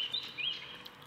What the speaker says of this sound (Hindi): चिड़िया की आवाज आती है.